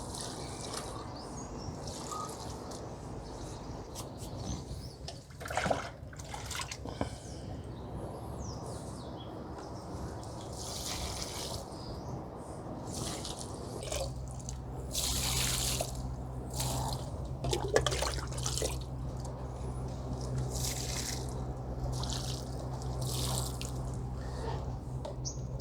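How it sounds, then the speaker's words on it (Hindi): Diluted liquid compost made from kitchen vegetable and fruit scraps is poured from a container into potted plants, with soft dribbling and trickling water that swells and fades over a steady background. "अब ये पानी पूरा हम लोग ये पौधों को दे देंगे गमला में पूरा।"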